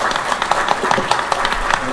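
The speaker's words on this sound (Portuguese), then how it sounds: "Uma salva de palmas pra Raquel, por favor!" Applause from a live audience at a Betmasters 2022 betting-tips event: a dense, steady patter of many hands clapping, fairly close and continuous throughout, with a voice mixed in under it.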